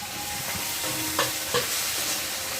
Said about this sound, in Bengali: দিয়ে মশলাটা ভালো করে ভেজে নেবো